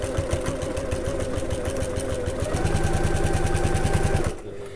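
A sewing machine runs a tote bag seam at the regular stitch length with a 3/8 inch allowance, its rapid steady needle chatter loud and close, picking up slightly in pace before stopping abruptly near the end.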